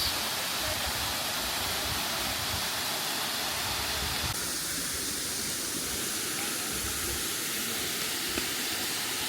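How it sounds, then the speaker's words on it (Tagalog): Taktak Falls on Siargao roars as a steady, dense rush of falling water, loud and continuous throughout with no voices over it. "Ito yung falls."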